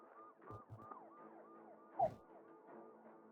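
An ambulance siren wails in a repeating rising-and-falling pattern, steady and moderately distant, with a brief thump partway through.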